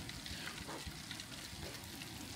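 Chicken with mushrooms and vegetables fries gently in a pan, giving a soft, even hiss at low volume with a few faint stirring sounds and no voices.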